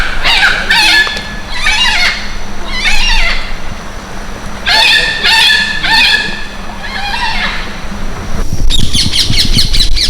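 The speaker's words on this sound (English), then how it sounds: "listen to the rain pitter-patter on all the leaves, and the birds as they all sang their rain shower songs" Birds calling in a rainy Hawaiian arboretum, repeated bright chirping phrases in bursts over a soft constant patter of rain on leaves, with a denser burst of calls near the end.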